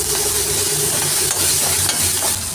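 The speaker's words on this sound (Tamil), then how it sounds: "பச்சை மிளகாய், பூண்டு எல்லாத்தையும் போட்டு நல்லா வதக்கிக்கணும்." Onion, tomato, curry leaves, green chilies and garlic frying in a pan make a loud, continuous close sizzle with faint stirring underneath and no speech.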